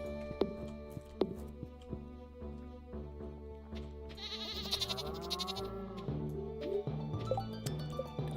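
Farm animals bleating and lowing in a Stardew Valley barnyard, with several short calls spread over a steady bed of game music and chimes.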